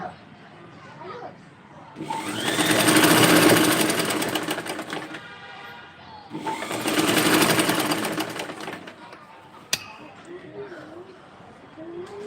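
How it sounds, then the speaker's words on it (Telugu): A sewing machine stitches a work dress in two long loud runs, each a few seconds, with a quieter pause between them. Faint voices and room noise sit in the gaps. "ఇక్కడికి అయితే మనము స్టిచ్చింగ్ దగ్గరికి వచ్చేసాం కదండి"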